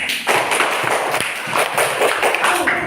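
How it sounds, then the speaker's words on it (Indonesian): Classroom applause for a student group in an Indonesian primary school, a burst of taps and claps with an irregular rhythm from several children at once, close by and fairly loud. "Tepuk tangan buat kelompok 3"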